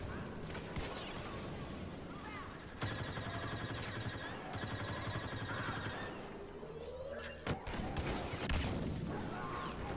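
Blaster secondary fire in a Star Wars Battlefront extraction match: a steady stream of loud gunfire, with sharp blasts and a crash near the end amid busy game noise and possible faint voices.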